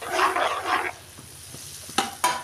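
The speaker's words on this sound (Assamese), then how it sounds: "মছলাখিনি ভাজি ল'ম" Spice paste of tomato, garlic, onion and coriander frying in hot oil, a soft steady sizzle with a few sharp scraping or stirring knocks near the end.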